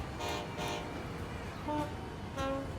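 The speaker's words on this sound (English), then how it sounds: "Honk, honk." Train horn in the Transport Fever 2 video game, sounding two short tonal honks near the end over steady rail and ambient game noise, following brief louder bursts earlier.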